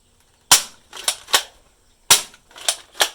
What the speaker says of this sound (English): Watch, I'm gonna shoot this fly out of the air.